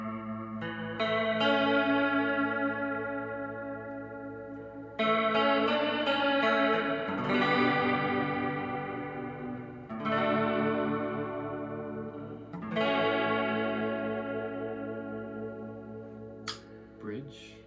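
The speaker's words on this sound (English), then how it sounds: "What about some modulation or ambient sounds?" A Schecter PT Pro electric guitar on the neck pickup rings out sustained chords through a chorus-style modulation effect, with each strum swelling and slowly decaying, played alone at moderate volume.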